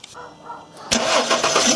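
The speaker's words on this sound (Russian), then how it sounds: "Запустим двигатель." A car engine cranks briefly and then catches, settling into a loud, close, steady running roar during a headlight bulb check.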